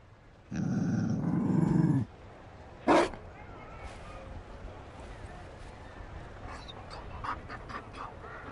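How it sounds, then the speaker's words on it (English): Mabari war dog from Dragon Age Inquisition pants and growls in a loud burst of about a second and a half, followed by a short sharp bark-like hit, then quieter scattered ambient sounds. "You found a dog?"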